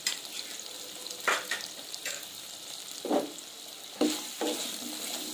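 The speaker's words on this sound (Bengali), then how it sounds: "এই আলুগুলো ভেজে নেব, একটু লবণ দিয়ে দিচ্ছি, সামান্য পরিমাণে একটু হলুদ দিয়ে দিচ্ছি" Potato pieces fry in hot oil with salt and turmeric, a continuous sizzle broken by several spoon scrapes and stirring knocks against the pan, close and clear with no talking.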